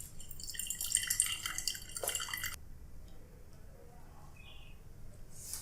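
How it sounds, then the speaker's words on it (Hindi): Water pours slowly off settled sand in a container, trickling and dripping brightly for a couple of seconds before thinning to quiet drips against a low room hum. "देखिए पानी पहले तेजी से नीचे गया, अब धीरे धीरे धीरे धीरे जा रहा है"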